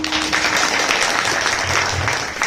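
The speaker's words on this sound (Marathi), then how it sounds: "टाळ्या जपून वाजवा" Audience applause at a kirtan with a singer, a dense steady clapping wash from a crowd that holds for a couple of seconds before easing off at the end.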